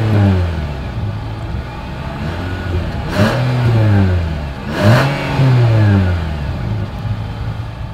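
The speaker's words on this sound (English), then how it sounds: "As always, here is that exhaust clip." A 2020 Nissan Sentra with a chrome exhaust tip idles with a steady mid-pitched drone, then is revved twice in quick succession, each blip rising sharply and falling back to idle, loud and close.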